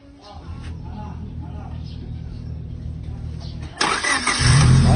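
A car engine is cranked for a restart: a steady low whirring turnover runs for several seconds, then a louder burst as it catches or revs near the end, with voices talking underneath.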